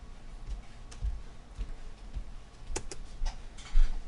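Computer mouse clicks, a series of soft, irregular ticks close up in a quiet room, alone with no voices.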